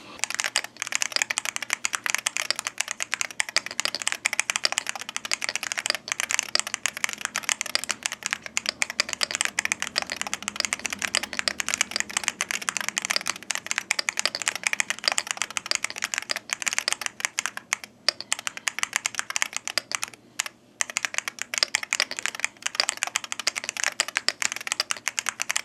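Steady, continuous typing on a budget MAD 68HE keyboard fitted with TTC King magnetic switches, rapid clacking keystrokes close and clear with no talking.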